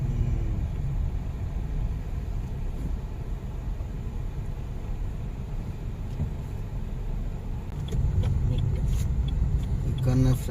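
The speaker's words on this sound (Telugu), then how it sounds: "మొత్తం ట్రాఫిక్ జామ్." A road traffic jam rumbles with a low, continuous drone of idling and creeping vehicle engines nearby, growing slightly busier toward the end with a few faint sharper sounds over the hum.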